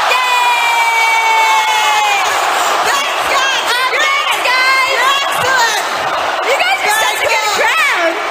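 A gig crowd cheers, whoops and shouts loudly and continuously, with many overlapping high-pitched yells rising and falling throughout.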